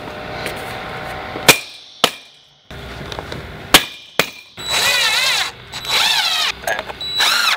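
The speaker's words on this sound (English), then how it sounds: "This is the only power tool that I will have to use for this entire procedure." A power drill whirs in several short bursts, its pitch rising and falling, after a few sharp clicks and knocks, while fastening a tilt sash window replacement kit. It is close and fairly loud, with no talking.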